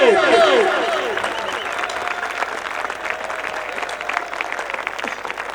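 Standing students clap for an arriving guest at a college annual dinner, a dense, loud burst that settles into steady clapping, with a voice speaking over the opening moments.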